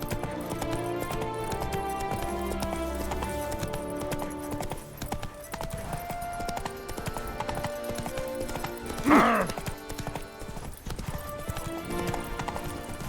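Roach the horse galloping in The Witcher 3: Wild Hunt, Blood and Wine, with steady rhythmic hoofbeats under game music and a loud whinny partway through.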